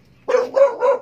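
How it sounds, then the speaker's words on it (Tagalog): A dog outside a house in Montalban, Rizal, after a typhoon gives three quick, loud barks in rapid succession, close by. "May aso."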